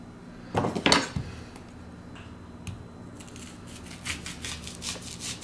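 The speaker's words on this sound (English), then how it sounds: "And cut your onion about like that." A knife slices an onion into thick rings on a board, with two firm crunching cuts close up followed by lighter clicks and scrapes.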